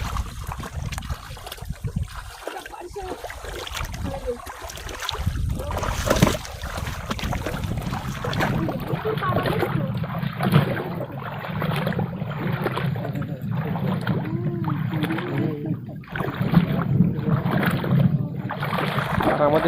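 A boat moves on a river through tiger forest on a fishing trip, a steady low hum with water wash and wind noise over the whole stretch, with people talking at times.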